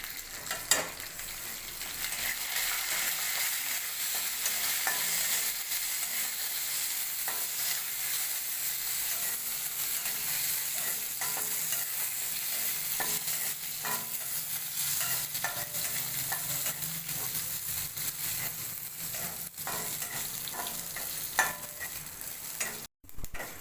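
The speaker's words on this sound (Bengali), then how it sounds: "কারি পাতাটা সর্ষেটা ভাজা হয়ে গেছে" Curry leaves and whole mustard seeds frying in oil, a steady crackling sizzle with light stirring sounds throughout and a brief knock near the end, no speech.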